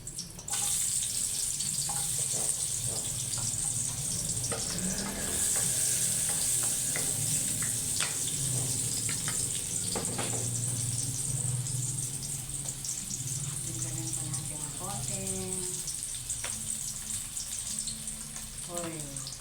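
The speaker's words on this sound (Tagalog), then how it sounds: "magigisa na tayo" Food sizzles steadily in hot oil in a pan, a dense continuous crackle with intermittent scraping stirs and clinks throughout, close and loud, with faint voices in the background.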